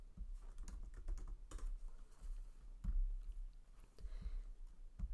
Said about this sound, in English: I'm just going to type in my son's name, Josh.